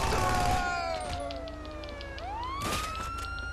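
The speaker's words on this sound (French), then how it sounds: "J'entends les sirènes." Police sirens wail in GTA Online multiplayer, several overlapping tones sweeping up and down, loud at first and then steady, with brief bursts of noise and no talk.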